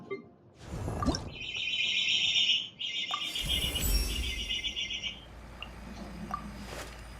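A loud, shrill bird call rings out in long, buzzing whistled phrases, briefly pausing once, then continuing strongly before fading over a quiet background.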